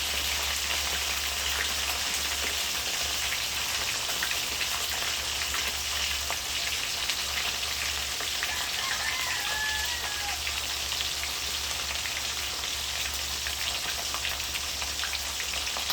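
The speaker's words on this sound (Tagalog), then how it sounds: "Pag mainit na yung mantika, saka ilagay yung isda." Steady crackling sizzle of fish frying in hot oil, continuous and fairly close, with a low hum underneath and no talking.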